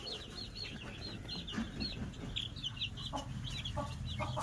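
Seven-day-old chicks at a poultry farm in Hubli peep in a steady, high chirping chorus, many small voices overlapping continuously at moderate distance.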